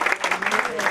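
A brief burst of audience applause at a lecture on marijuana, CBD and opioids, dense clapping heard close for about a second with voices mixed in.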